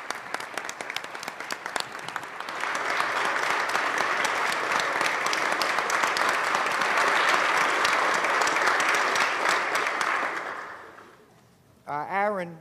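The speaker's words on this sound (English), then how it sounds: "give her a round of applause for protecting" Sustained applause fills the New York State Senate chamber, building after a couple of seconds into dense, loud clapping that holds steady before fading out, followed by a brief rising tone at the end.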